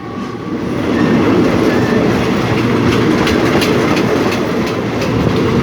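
Thai rapid train 112 pulls out of Bang Sue Junction station, a loud steady rumble of wheels rolling along the rails with faint rhythmic clicks, heard up close alongside the moving carriages.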